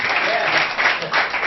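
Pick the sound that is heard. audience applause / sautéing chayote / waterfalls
audience applause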